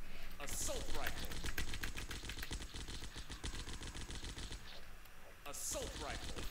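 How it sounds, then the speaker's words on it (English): Rapid automatic assault rifle fire from the zombie shooter Zompocalypse, a dense loud stream of shots running nearly nonstop, with a brief lull before the burst resumes. "Assault rifle."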